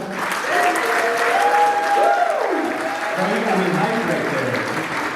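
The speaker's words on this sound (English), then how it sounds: "round of applause for Q" Seated audience at a real estate seminar applauding a speaker as he takes the stage, a continuous crowd of clapping with voices talking and calling out over it.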